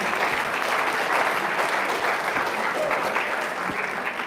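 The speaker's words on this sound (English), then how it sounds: "All right, let's give him a round of applause." Sustained audience applause fills a high school auditorium for a Holocaust speaker being welcomed, a dense, steady wash of many hands that holds evenly and begins to thin near the end.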